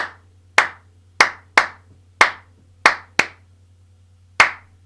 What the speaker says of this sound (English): A little pause at the end before the final clap